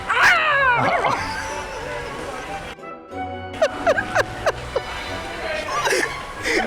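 A dog barks and yips several times after someone steps on its tail, sharp short barks in bursts near the mic, with people talking and reacting around it.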